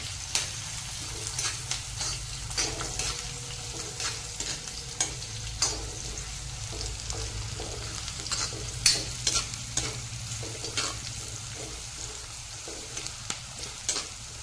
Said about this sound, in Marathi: तमालपत्र आणि कांदा। छान असं परतून घ्यायचं।